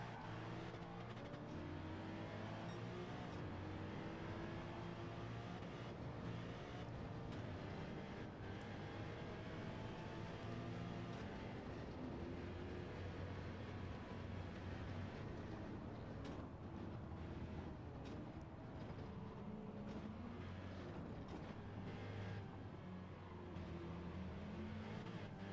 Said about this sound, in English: I am currently going very fast on the Nürburgring